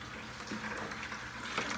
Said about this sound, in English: So I'm filling up my bucket here.